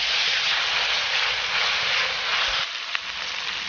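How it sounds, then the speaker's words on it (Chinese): Side vegetables tossed into hot oil in a wok for a glutinous rice breakfast, a loud, dense, steady sizzling hiss that eases slightly near the end. "锅中热油，倒入所有的配菜，翻炒均匀"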